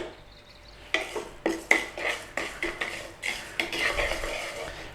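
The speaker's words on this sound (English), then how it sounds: "We just want to put a little bit of colour on this rice, you know. We're just toasting it a little bit" Rice toasting in a pan while a utensil stirs it: a quick string of sharp scraping clinks against the metal, about a dozen strokes in an uneven rhythm, close and clear, with a faint dry sizzle underneath.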